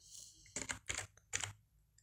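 A short burst of typing on a computer keyboard as a layer name is entered in Adobe Acrobat Pro DC, with several close, crisp keystrokes clustered in quick groups over a soft room hum.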